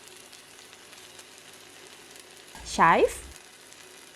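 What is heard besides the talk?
stir-frying prawn kuey teow noodles in a pan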